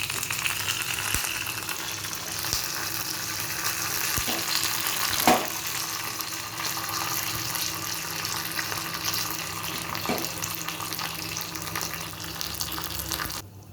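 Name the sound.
dried red chillies and curry leaves frying in oil for chutney tempering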